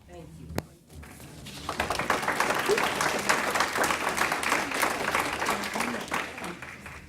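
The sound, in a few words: applause in a hearing room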